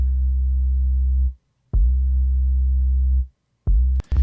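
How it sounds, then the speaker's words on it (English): A basic, deep sub bass line plays long sustained low tones, stopping and restarting in a slow repeating pattern with short gaps, clean and alone. "Just a real basic sub bass."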